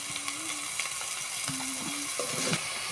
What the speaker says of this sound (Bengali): বেগুন আর আলু আদা আর পেঁয়াজের সঙ্গে ভালো করে ভেজে নেব